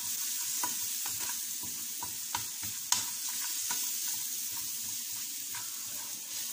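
A few cloves of garlic frying in a spoonful of butter in a pan, a quiet steady sizzle with light scraping stirs and small taps, close by and without talk.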